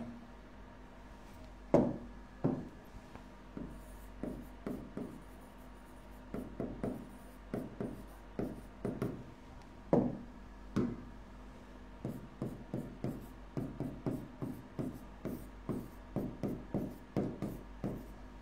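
Pen or marker strokes scratch out an interest rate formula on a board during a lesson, a long run of short rubbing bursts in irregular rhythm, close and fairly quiet, with no one talking.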